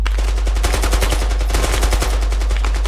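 Rapid automatic gunfire in the military shooter game Squad, a loud close burst of continuous shots in fast rhythm over a deep rumble, filling the whole moment.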